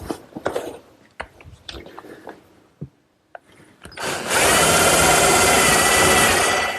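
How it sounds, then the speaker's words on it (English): A power drill bores a 1/4-inch hole for a dowel pin in wood for a patio table, starting after scattered workshop clatter and then whirring loudly and steadily for a few seconds. "I'll drill a 1/4-inch hole for a dowel pin"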